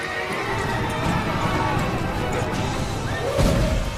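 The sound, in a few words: horse hooves and neighing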